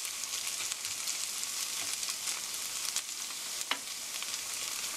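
Thinly spread vegetables and tuna cook undisturbed in a frying pan for tuna toast, giving a soft, even sizzle with a few faint pops and one brief tap. Nobody speaks.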